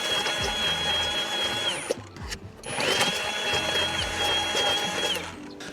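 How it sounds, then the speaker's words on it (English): A cordless stick blender pulses marinade ingredients at a campsite, its motor whirring loudly in two bursts separated by a brief pause, with a steady high-pitched whine throughout. "cordless stick blender, really nice for when you're out in the boonies"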